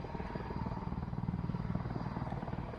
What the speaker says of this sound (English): you can see the Apache's amazing hover performance